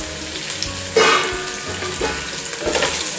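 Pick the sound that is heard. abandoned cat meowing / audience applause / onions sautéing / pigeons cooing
onions sautéing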